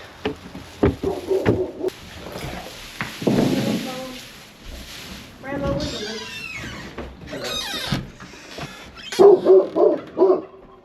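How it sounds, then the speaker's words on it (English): Dog barking outdoors during a garden garlic harvest, a series of bark bursts spread across the clip, moderately close, with a person talking in between and a cluster of sharp barks near the end. "What are you barking at?"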